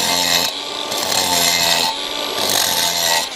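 Large angle grinder with a cutting disc biting into stone, a loud, harsh whining rasp that rises and dips in three or four strokes as the disc is drawn across cut lines.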